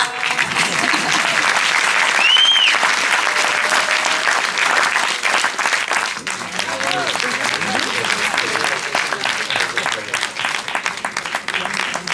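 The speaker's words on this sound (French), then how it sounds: "Un applaudissement." Audience applause at a film festival closing ceremony in Guadeloupe, a long stretch of dense, loud clapping from a large crowd with scattered whistles and cheers, voices calling out beneath it as it tapers slightly toward the end.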